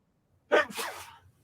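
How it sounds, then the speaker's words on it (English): A man sitting at a podcast microphone lets out a single sharp sneeze, close and loud, with a quick breathy burst and then a trailing exhale in an otherwise quiet room. "I'm going to sneeze here in a second."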